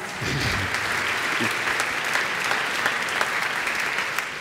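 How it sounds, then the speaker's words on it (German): Steady applause from a crowd at an award ceremony fills the whole stretch, a dense even patter of many hands clapping at a constant level. "Applaus."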